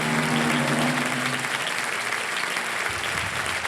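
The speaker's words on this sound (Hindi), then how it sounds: "ताली बज रही है पहले से ही" A studio audience on a TV quiz show, Kaun Banega Crorepati, breaks into loud, dense applause that holds steady, then eases slightly toward the end.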